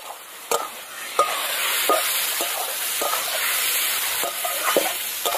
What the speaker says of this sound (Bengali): এই দেখুন ভালো করে একদম কষিয়ে নেব।